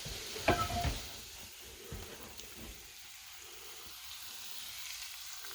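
Scallops sear in garlic brandy butter in a hot pan with a steady close sizzle, a few sharp clinks and scrapes near the start, then an even crackling hiss carrying on alone.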